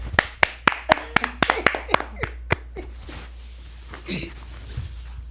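One person claps a quick run of about ten sharp, close claps. The claps slow and fade, then a speaking voice carries on.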